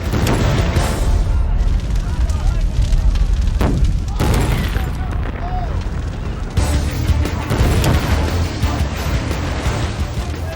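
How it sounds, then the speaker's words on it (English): Large 55-gallon drums of methanol and chemicals rupture and explode in an intense fire, giving loud repeated booms and crashes over a steady roaring rumble of flames. "The blasts continue into the night, as more of the 55-gallon drums are heated to the point of rupture"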